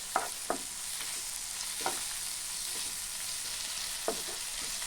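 Tomatoes and onions fry in a pan with a steady broad sizzle, broken by a few sharp scrapes and stirs of a spoon against the metal; no voices.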